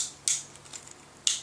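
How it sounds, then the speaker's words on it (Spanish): Crimping tool squeezing an N connector onto RG58 coaxial cable, heard as two sharp, close mechanical clicks about a second apart over a quiet background. "así y crimpo con la crimpadora, con el agujerito de RG58"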